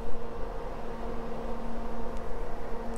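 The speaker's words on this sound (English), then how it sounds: "my dummy load is kicking in. That's the fan there." The cooling fan of an electronic dummy load runs under a 150-watt test during audio amplifier restoration, giving a steady close broadband whir with a faint constant hum.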